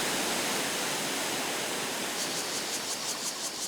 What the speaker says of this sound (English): as you watch the white curtain of water crash into the pool below